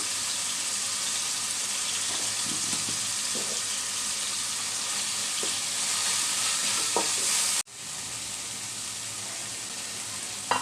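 Mashed beans (shim bhorta) fry in hot oil, a continuous close sizzle with occasional stirring scrapes and taps, cutting out briefly near the end before resuming, with no voices.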